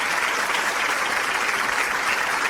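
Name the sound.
audience applause for the opera students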